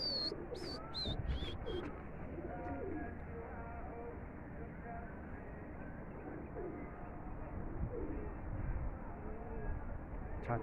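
Pigeons coo steadily in a bird loft, their soft low rolling calls layered over constant background noise, with a few sharp chirps right at the start.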